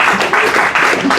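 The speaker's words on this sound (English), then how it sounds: "Let's do a round of applause for Daniel." A live audience applauds Daniel at an oral history evening, a dense burst of clapping that is loud and close and fills the whole moment without a break.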